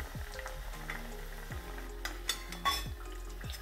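Chirote pastries fry in hot oil for Diwali faral, a steady close sizzle with soft crackling, broken by a few brief clinks of utensils against the pan.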